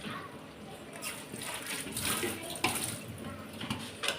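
Water pours into a cooking pot of potato fry with tomato, a steady splashing rush lasting several seconds with small surges, close and fairly loud.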